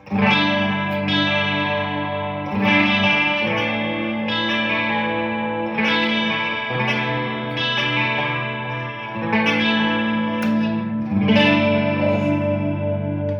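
Distorted electric guitar, a 2020 Gibson Les Paul Slash Collection on its neck pickup, plays warm, sustained chords in a repeating pattern, heavy with effects and echo, with no voices.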